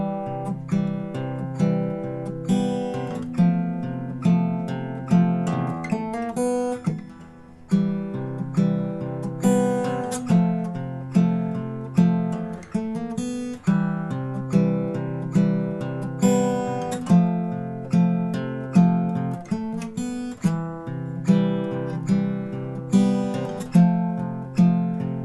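Fingerstyle acoustic guitar intro of a song, a steady repeating arpeggiated pattern with plucked bass notes and chords in an even, looping rhythm, played solo and close with no voices.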